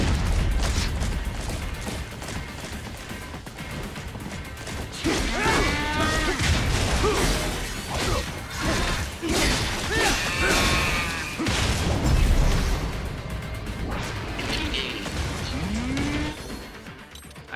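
A human voice imitates drawn-out cow moos over loud Metal Gear Rising gameplay, with the low, bending calls sitting among crashes, booms and mechanical action sounds.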